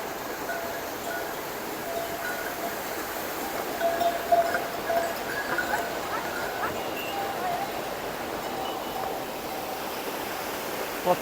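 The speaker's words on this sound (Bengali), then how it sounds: "কত জল পড়ছে উপর থেকে" A waterfall at night on the trek to Kedarnath near Rambara sends water pouring down from above, heard as a steady, broad rushing roar that continues unbroken and fairly distant.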